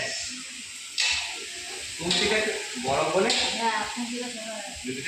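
Meat poured into a hot pan of curry sizzles in loud hissing bursts, with a few sharp surges as it hits the oil, while people talk over the cooking.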